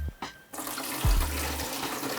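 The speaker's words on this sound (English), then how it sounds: "We're just gonna fill it to max with clean water" Clean water pouring into the water tank of a Gaggia Classic Pro espresso machine during descaling, a steady close splashing fill lasting nearly the whole moment after a brief quiet start, with a thud of handling partway through.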